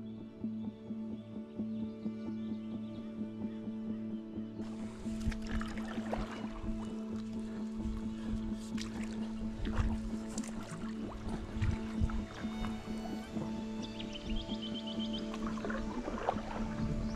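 Paddles dip and splash as inflatable stand up paddleboards glide along the Blackwood River, soft repeated strokes over a steady background hum, close by and moderately quiet.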